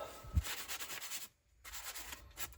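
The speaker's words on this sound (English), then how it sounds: "Okay, let's buff it a little." Cloth buffing a homemade Rub and Buff metallic wax finish, steady back-and-forth rubbing strokes close up, pausing briefly midway before resuming.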